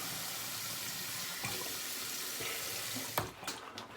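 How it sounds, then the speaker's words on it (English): A tap runs into a sink for wet shaving, a close steady splash that shifts and spatters near the end. "Just gonna add some water here."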